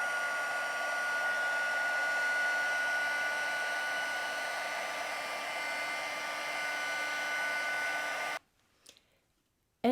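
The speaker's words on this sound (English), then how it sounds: "Let's bring in our heating tool." A heating tool for paper crafting blows hot air in a steady loud whirring hiss for about eight seconds, then cuts off abruptly, leaving near silence with a faint click.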